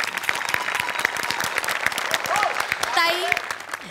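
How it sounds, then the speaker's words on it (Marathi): A studio audience on a comedy show applauds, a dense patter of clapping building slightly toward the end beneath a host's voice and a musical sting. "जोरदार टाळ्या"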